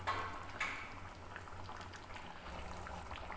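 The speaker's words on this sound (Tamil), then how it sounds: "2 நிமிஷம் வந்து நல்லா கொதிச்சிடுச்சு" A pot of sankara fish gravy bubbles steadily at a rolling boil, a dense continuous simmering hiss with soft popping throughout, close by and without any voices.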